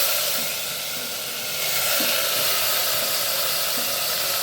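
Jackfruit pieces frying in hot oil with turmeric for a sambar, giving a steady close hiss and sizzle with small crackles scattered throughout, no voices.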